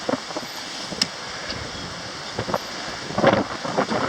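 Strong gusty wind at Venice Beach buffets the microphone in a steady broadband roar, with sharper gusts near the start and toward the end and no voices.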